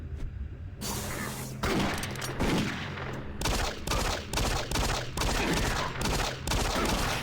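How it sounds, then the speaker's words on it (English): Rapid bursts of gunfire from the 2004 PC shooter Doom 3, loud and dense, firing in repeated volleys over a steady game soundscape for several seconds. "Couple of shots to the head should take him out."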